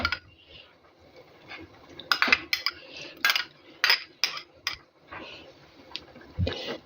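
Spoon clinking and scraping in a pan while tomato paste is stirred, a series of irregular sharp metallic taps over quiet kitchen background.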